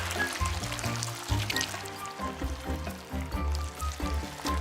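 Paint is poured slowly to build a gradient, giving soft liquid trickles and pours heard faintly behind a background of layered music, with no one speaking.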